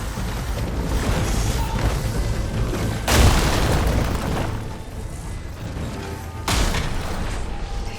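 An enemy machine firing in Horizon Forbidden West, two deep booming explosions a few seconds apart over a constant loud rumbling wash of battle noise.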